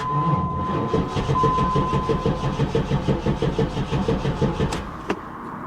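A 1994 Pontiac Trans Am engine cranks over and over in a steady rhythmic churn without catching, loud and close, ending with a couple of sharp clicks.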